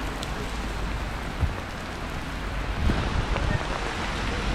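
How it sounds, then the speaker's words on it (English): Sudden heavy downpour in a city, a steady broadband hiss of rain hitting surfaces with a few louder splashes and gusts, continuous and close throughout. "There was then a sudden downpour of rain that came from absolutely nowhere."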